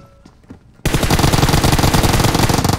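Rapid automatic gunfire in an online multiplayer shooter game bursts in loud and sustained after a quiet moment, a dense continuous rattle of shots.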